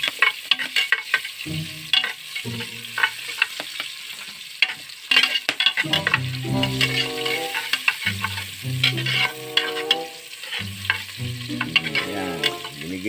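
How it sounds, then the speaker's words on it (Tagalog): Chopped garlic and onion sautéing in a pan, a close, crackling sizzle broken by repeated scraping strokes of a utensil stirring through the mix, with no talking. "nilagay yung uh, bawang sa sibuyas gigisahin po natin"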